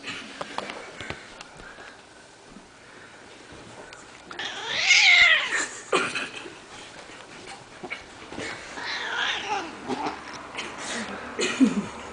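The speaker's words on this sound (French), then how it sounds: "Oh, le son de grognage." Cats growl and hiss in low, tense bursts, one swelling into a loud yowl, with quieter rumbling and shuffling in between.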